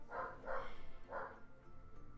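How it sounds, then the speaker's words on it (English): Dogs barking inside a house, three loud, sharp barks in quick succession followed by quieter yips, heard somewhat distant indoors. "I don't know what's going on with the dogs in my house."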